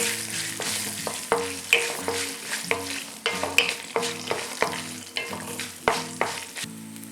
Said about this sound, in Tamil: அடுத்தது காஞ்ச மிளகாய், பச்சை மிளகாய், அப்புறம் கேஷ்யூ. இதையும் வந்து கொஞ்சம் ஃப்ரை பண்ணிக்கலாம்.